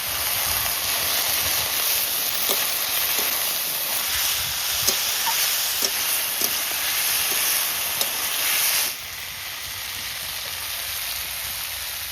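Long beans fry in hot oil with turmeric and salt, a steady close sizzling hiss dotted with small crackling spatters and light taps, dropping suddenly to a softer hiss toward the end.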